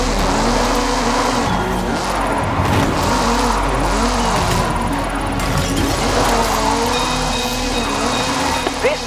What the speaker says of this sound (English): This is Mr. Kenneth Block's Hooligan Gymkhana 10 Ford Focus RS RX